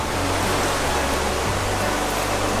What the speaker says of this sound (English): apparently this is a waterfall from heaven